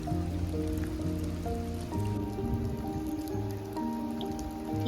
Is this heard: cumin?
no